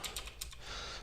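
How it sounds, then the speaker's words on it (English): Typing on a computer keyboard, a quick run of clicky key taps followed by a short steady stretch, close and fairly quiet, with no talking. "So I'm going to type"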